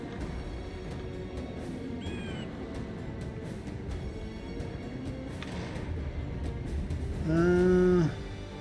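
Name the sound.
monster creature cries in Heretic/Hexen video game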